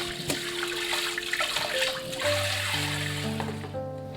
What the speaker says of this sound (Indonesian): kita cuci bersih dulu udangnya satu persatu di air mengalir seperti ini ya